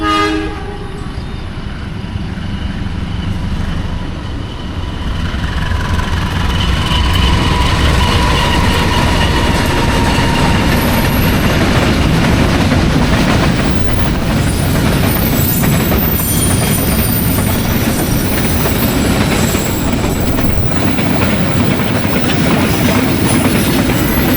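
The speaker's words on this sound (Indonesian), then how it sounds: "Kereta api." A long Pertamina train rolls past close by, steady rumbling and clattering wheels with occasional metallic squeals throughout.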